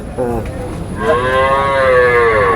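A cow moos loudly and up close, one long, drawn-out call with a rising then steady tone, preceded by a shorter lowing sound.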